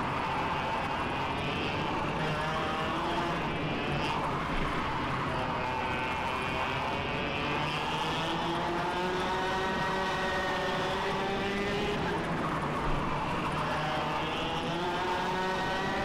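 Racing kart engine in the game KartKraft, a continuous buzzing whine that rises and falls in pitch with throttle through corners, close and steady throughout with little else audible.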